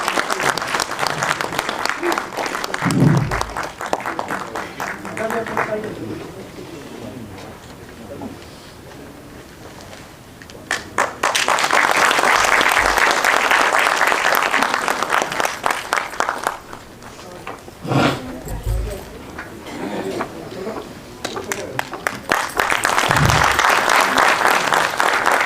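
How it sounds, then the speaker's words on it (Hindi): A large audience at a book launch event in Dehradun claps loudly and continuously, in waves that swell and fade over about 25 seconds, with faint voices and bird chirps underneath. "जोरदार तालियों से आप सभी लोग इनका स्वागत करें"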